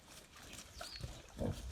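Soft grunts and snuffling from many piglets suckling a thin sow, with a couple of low, close grunts near the end; quiet and brief.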